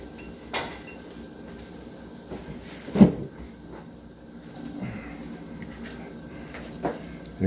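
Cutco kitchen knives slide into a wooden butcher's block, making a few scattered hollow clunks and knocks in a quiet kitchen, with one louder knock midway and soft clatter between.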